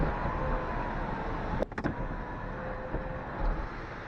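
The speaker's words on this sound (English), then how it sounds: "Okay, so apparently the sunroof may only open a few inches" A Mercedes-Benz sunroof motor runs with a steady, close electric whine that is briefly broken by a few clicks and knocks partway through.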